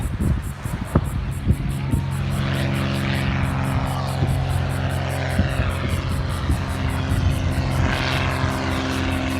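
A propeller plane towing beach banners drones overhead, a steady engine hum that swells as it passes, with beach wind and faint talk nearby.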